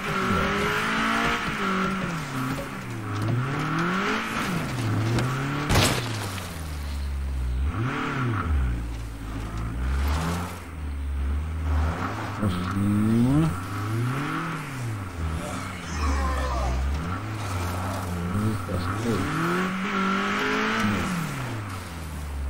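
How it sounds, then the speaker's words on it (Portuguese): A car driven in the video game State of Decay 2, its engine revving up and down in repeated sweeping cycles with occasional tire squeal, loud and continuous, with no speech. "Esse carro entra aqui."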